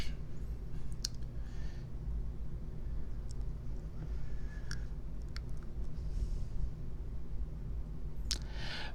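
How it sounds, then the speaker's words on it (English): A computer mouse clicks a handful of times while meshing software is being operated, giving short sharp ticks spread across the stretch over a steady low background hum. "You can double click it or hit right click and then edit."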